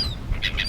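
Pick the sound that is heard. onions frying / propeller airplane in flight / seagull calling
seagull calling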